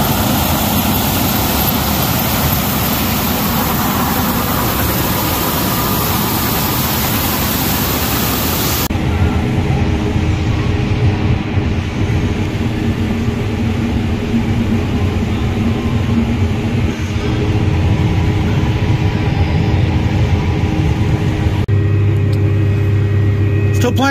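Combine harvester engine running during candy corn harvest, a loud, steady broadband roar and rumble close by that shifts in tone partway, with speech heard over it.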